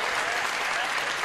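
An audience at a Hindi comic poetry gathering applauding, dense steady clapping from many hands, brief and fairly loud.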